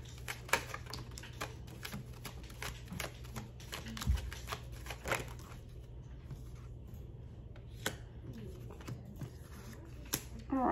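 Tarot cards riffle and snap in quick bursts of crisp shuffling, close and fairly quiet, with soft clicks and pauses between.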